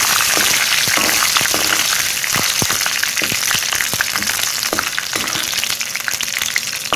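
Cauliflower pieces sizzling in hot oil with curry leaves and a little coriander, a steady loud crackling fry with sharp pops and spatters throughout and no talk.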